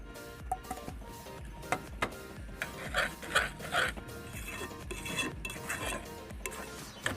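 A spoon works a thick egg halwa mixture around a pan, making repeated close scraping and knocking strokes at an uneven rhythm with faint sizzle beneath and no voices.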